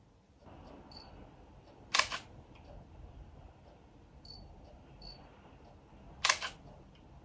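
Panasonic GH2 camera shutter firing twice, each a short, crisp mechanical snap several seconds apart, with faint soft clicks and a quiet room hum in between.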